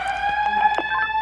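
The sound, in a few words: fire alarm siren triggered by preaction valve manual activation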